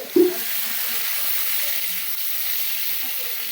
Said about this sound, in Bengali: আমাদের তেল গরম হয়ে গেছে। এবার আমরা আস্তে আস্তে চিংড়ি মাছগুলো ছেড়ে দেবো